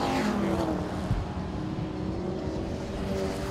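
A little 1500cc Ford Fiesta racing car pushing past a rival at Knockhill circuit, its engine a steady, buzzing drone at mid distance, with a whooshing sweep at the start and a rising engine note toward the end.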